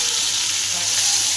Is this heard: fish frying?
yes